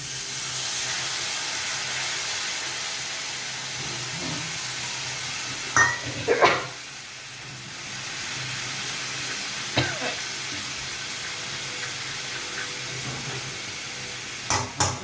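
Soaked mustard and ground spice water hits hot oil for a katla fish curry with kokum, giving a steady close sizzle and hiss with a few sharp utensil clinks and stirring knocks.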